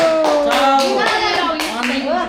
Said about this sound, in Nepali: ताली बजाऊ सबैजनाले